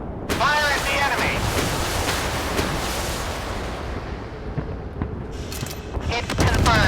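Warship guns fire in the naval combat game Force of Warships: a loud, close blast opens into a long rumbling, hissing decay, and a second heavy boom lands near the end, with faint voice-like sounds under the roar.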